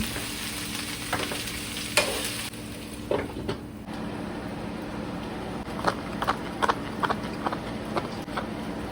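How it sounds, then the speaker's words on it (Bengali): Spices sautéing in a hot pan in a home kitchen, a steady sizzle under repeated clinks and scrapes of a spoon stirring, close and continuous. "এই যে ও মশলা টশলা কষাচ্ছে"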